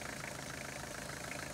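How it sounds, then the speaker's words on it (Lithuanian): A Citroen XM engine that has lost its oil pressure runs on, a steady mid-to-low idling drone with a faint knocking edge, close and continuous as it slowly dies. "nebėra variklyje tepalo, variklis pamaž gęsta"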